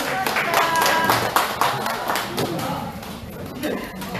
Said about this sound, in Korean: 이분들을 위해서 다시 한번 박수 부탁드릴게요